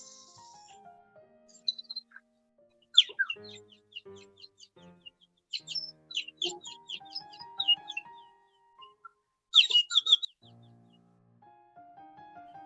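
Water-filled gourd whistle flute, an old traditional instrument, sounding a series of bird-like chirps, trills and warbles, close and fairly loud, in bursts with short pauses and a few low knocks between them.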